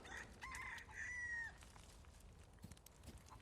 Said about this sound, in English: Chicken congregation. They have fused into one. I've created a chicken Cerberus.